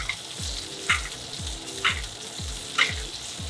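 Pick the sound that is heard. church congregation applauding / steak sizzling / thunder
steak sizzling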